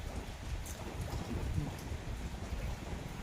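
Rain falls steadily over a vegetable garden, a soft continuous hiss of drops with low rumbling, fairly faint and unbroken, with no voices.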